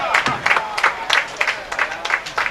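Applause and cheering from a standing crowd of Finnish supporters at a youth bowling championship, arriving in rapid repeated bursts that swell and fade across the whole stretch, loud and close.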